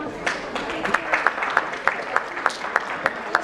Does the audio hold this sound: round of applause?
yes